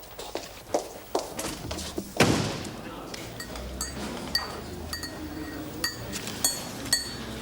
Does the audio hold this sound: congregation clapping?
no